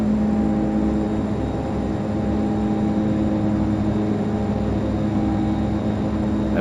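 Steady, unbroken drone of a DHC-6-300 Twin Otter's twin turboprop engines in Flight Simulator X, a loud, even hum with tonal bands that holds constant throughout with no speech.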